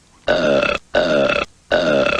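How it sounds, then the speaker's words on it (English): A person burping three times in quick succession, each loud, voiced and about half a second long, separated by short silences. "I absolutely forbid burping in this household."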